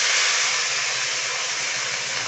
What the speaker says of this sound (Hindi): कढ़ाई में डाल के अच्छा से भून लेंगे प्याज भाजी को